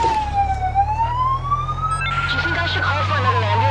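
An ambulance siren wails close and loud, its pitch sweeping slowly up and down over a low steady engine rumble, with people talking faintly underneath.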